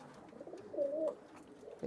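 Pigeons inside a crowded loft coo softly, one burst of rolling cooing in the middle and more faint murmurs around it, close by and quiet.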